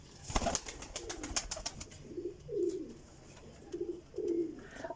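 Golden teddy pigeons coo nearby in a steady rhythm of four or five low, rolling calls, soft and close, with a few sharp clicks and rustles early on.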